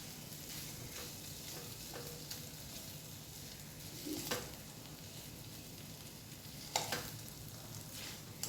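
Ground mustard paste sizzling in hot oil in a pan, a faint, steady crackling fry with a few sharper spatters and stirring scrapes, no voices.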